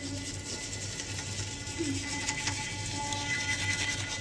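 A toothbrush scrubs continuously with a soft, steady scratching and rubbing, brushing teeth with a foaming mint toothpaste, close and fairly quiet with no one speaking.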